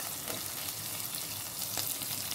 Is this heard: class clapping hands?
no